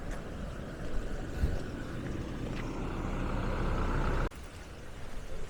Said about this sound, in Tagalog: Wait lang, padaan muna natin yung sasakyan.